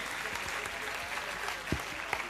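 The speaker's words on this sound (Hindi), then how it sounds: "Please put your hands together." An audience claps steadily for a young girl awarded third place at a prize distribution for a storytelling competition, a dense, even round of applause heard close, with no talk over it.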